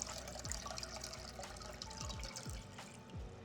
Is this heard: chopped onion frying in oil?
no